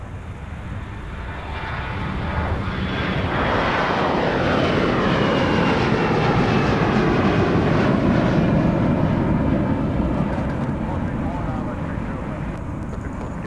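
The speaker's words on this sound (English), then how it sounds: "Now here come the departures." Airliners depart from Minneapolis–Saint Paul airport on a muggy winter day, a loud jet roar swelling and lingering for many seconds, with a whining engine tone that sweeps downward as an aircraft passes, over a steady rumbling background.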